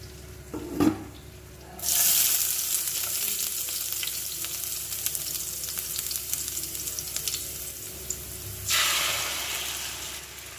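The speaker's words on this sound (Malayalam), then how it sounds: "അങ്ങനെ കപ്പ നന്നായി വേവിച്ചുടച്ചെടുത്ത് വെച്ചത് ഞാൻ ഒരു ഉരുളിയിലേക്ക് അല്പം കടുകും വറ്റൽമുളകും കറിവേപ്പിലയും ഒക്കെ താളിച്ചതിന് ശേഷം അതിലേക്ക് ചേർത്ത് കൊടുത്തിട്ട് നന്നായി ഇളക്കിയെടുക്കുന്നുണ്ട്" Mashed tapioca stirred in an uruli with a tempering of mustard seeds, dried red chillies and curry leaves, giving a steady close sizzle with soft scraping, plus a brief knock near the start and a louder sizzling surge near the end.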